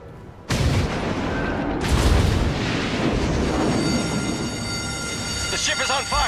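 The main guns of the USS North Carolina battleship in World of Warships fire with two heavy, close booms, followed by a sustained rumbling roar and ringing tones as the shells travel and strike.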